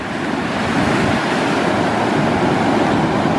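Ocean waves washing onto a beach, a continuous loud roar of surf with wind noise on the microphone and no voices.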